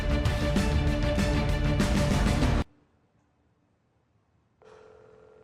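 A telephone rings unanswered, a loud continuous ring lasting a couple of seconds, then a silent pause before a further ring begins.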